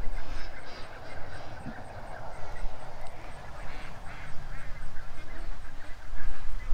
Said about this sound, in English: The ducks aren't liking the wind noise, Telsa.